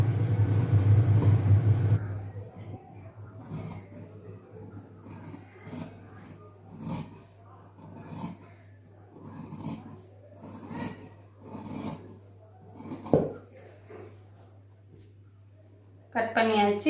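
Scissors cut through cloth for a chudidhar top at a tailoring table, giving a series of soft rasping snips in a loose rhythm, close and moderately quiet, with a steady low hum underneath and a brief voice at the start and end.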